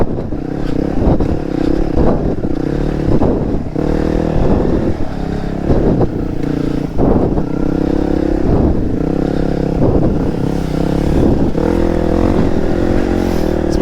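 A two-stroke dirt bike climbing a rocky uphill trail, its engine loud and close, rising and dropping in repeated surges as the throttle opens and closes, with clattering over rough ground.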